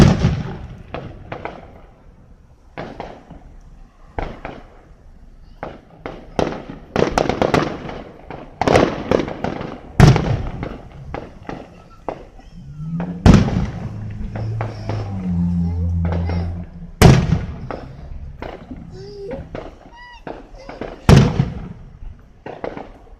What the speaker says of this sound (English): They're setting off like little fireworks